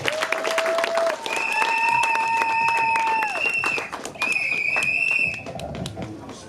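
A crowd at a customary wedding claps in a steady patter of applause, with sustained tonal notes sounding over the clapping.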